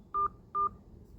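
Two identical short beeps from a telephone keypad sound while a PIN is entered on a bank phone line. They are evenly spaced and clear over faint background hiss.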